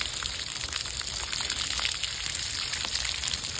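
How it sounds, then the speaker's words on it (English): Water pressed steadily against live oak bark outdoors, a soft continuous gushing and sloshing wash with faint trickling detail, even in level and alone without speech. "Direct, gentle pressure, pushing water into the bark."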